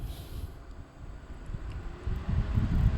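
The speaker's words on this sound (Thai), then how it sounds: "อ่านี่ขนาดกลางเออใช้ได้เลยครับ เสียงลมใช้ได้เลยนะครับ" A homemade solar-powered cordless electric fan rated at twenty volts blows air with a steady low whooshing rush that swells louder toward the end, close to the microphone.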